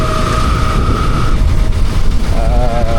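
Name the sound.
motorbike riding in drizzling rain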